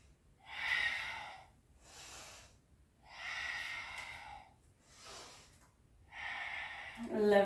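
Slow, audible yoga breaths flowing through a sequence, three long airy exhalations spaced evenly a couple of seconds apart, close and quiet, with a brief sharper sound at the end.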